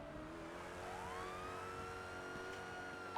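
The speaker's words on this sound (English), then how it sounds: "Put your lights and sirens on." Police car siren in a GTA V roleplay game, a wailing tone sweeping up and down continuously at moderate distance, heard alone under a low engine hum.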